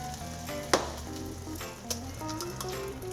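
Bread sizzles steadily in melted butter in a pan over medium heat, a close, continuous crackle with one sharp pop near the start and a smaller one later.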